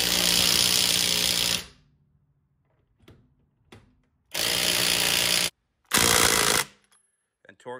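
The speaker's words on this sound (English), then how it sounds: "And torque these down to 150 foot-pounds." Car wheel fasteners are driven down with a pneumatic impact wrench: three loud, close hammering bursts separated by quiet gaps, with faint clinks of metal between them.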